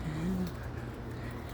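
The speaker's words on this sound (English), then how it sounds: "in the evening when the birds are making noise like this" A pigeon or dove coos softly over a low background hum during an evening walk, a short call near the start before fading into quiet ambience.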